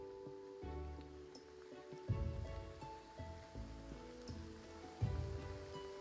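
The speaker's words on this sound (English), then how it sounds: "It's starting to rain now." Rain falls in the pixel-art graveyard-management video game Graveyard Keeper, a steady soft patter beneath looping game music with recurring low thumps.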